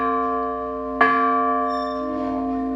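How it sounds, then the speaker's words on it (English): A single strike on a 108-kilogram replica of the Santiago bell, a loud close clang whose rich, sustained metallic tone hums on and slowly decays without fading out. "Yes, the sound is really strong. Actually, the bell weighs 108 kilograms."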